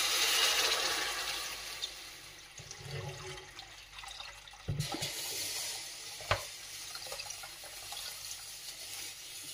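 Heated water pours and splashes into a cooking pot for a spicy shengole curry, a soft, steady liquid gurgle at low volume with a couple of brief knocks partway through.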